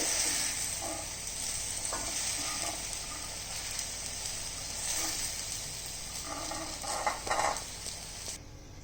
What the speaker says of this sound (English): I am putting off the gas and placing the okras into the serving bowl.